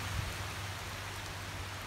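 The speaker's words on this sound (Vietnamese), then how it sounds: "Trời lại mưa anh em." Steady rain falls outdoors while a guava tree stump is being dug out, a continuous even hiss of drops throughout with no voices.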